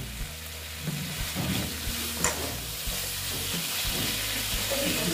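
Spiced masala for a bata fish curry sautéing in a pan, with a steady soft sizzle and occasional scrapes of stirring throughout, no voices.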